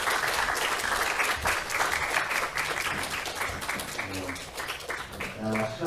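A church congregation applauds, a crowd of steady hand claps close by that carry on throughout, with a voice speaking over the clapping toward the end.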